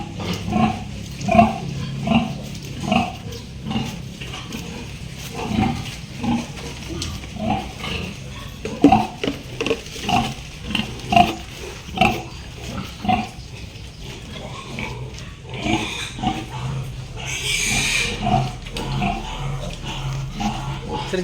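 Pigs grunting repeatedly nearby on a pig farm, a series of short low snorts and oinks in irregular rhythm, with occasional squeals and background farm ambience.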